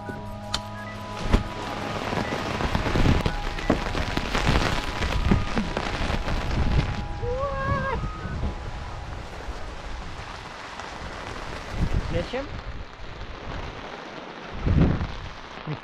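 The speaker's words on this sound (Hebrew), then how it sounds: "פאק, איזה גשם." Heavy rain falls outdoors on a rainy day, a dense continuous hiss with scattered louder splashes and a few faint tonal sounds in the background, with no talking.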